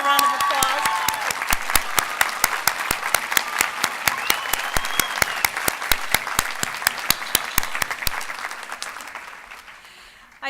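Sustained audience applause at a nursing gala awards ceremony, a dense wash of many hands clapping steadily for about eight seconds before fading out to near silence.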